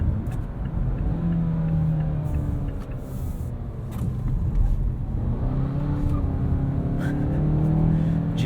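A 2017 Mazda CX-5 Grand Touring FWD in manual mode, heard from inside the cabin: a steady engine drone rising and falling in pitch through quick gear shifts, loud and continuous over road rumble.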